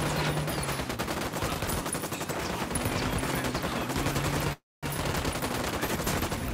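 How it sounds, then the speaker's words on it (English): Sustained automatic gunfire in Ghost Recon Wildlands, a dense rapid stream of shots heard close and loud, broken by one brief cutout of silence before it resumes. "Opening fire."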